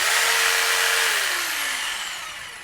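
A corded Bosch jigsaw with no brake whines loudly at one steady speed, then its pitch slides downward as the motor coasts toward a stop, fading gradually without any voices.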